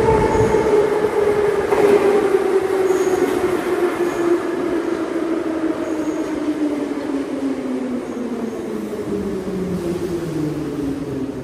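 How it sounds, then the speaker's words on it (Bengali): A metro train pulls into a deep underground station in Russia, its loud rumble and descending wheel whine filling the platform as it slows to a stop, with no talk over it. "এই পাশে লাইনে ট্রেন আসতেছে।"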